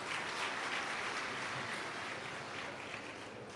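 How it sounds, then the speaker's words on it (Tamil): Audience clapping in response to a Tamil speaker's request, a steady dense wash of applause holding throughout without any voices over it. "அதுக்கே ஒரு கைத்தட்டல் கொடுத்துடலாம்"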